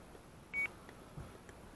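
A radio transmitter's switch warning gives a single short electronic beep, brief and fairly quiet against a faint background hiss.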